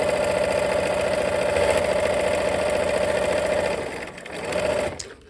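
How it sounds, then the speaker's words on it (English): A sewing machine stitching fabric runs at a steady hum for several seconds, then slows and stops with a final click, loud and close, with no talking. "Let's go ahead and sew."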